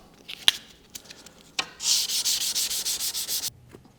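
Wood is sanded by hand with 240-grit sandpaper and a little WD-40. After a few scattered rubs comes a quick run of about ten close, rhythmic back-and-forth scratching strokes.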